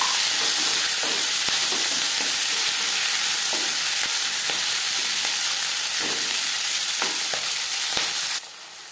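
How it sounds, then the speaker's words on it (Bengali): Crushed cauliflower stems frying with cumin and dried chilli for a Bengali chochori, a loud continuous sizzle with repeated spatula scrapes and taps, steady throughout before dropping off at the very end, no speech. "জিরে শুকনো লঙ্কা ভেজে নেওয়ার পর দিয়ে দেব থেতলে রাখা ফুলকপির ডাটা।"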